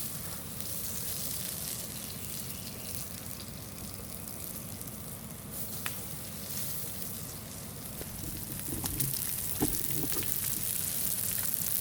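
Peanut oil sizzles steadily on a hot camp griddle as breakfast fries, a dense, continuous crackle with a few brief pops and scrapes near the end.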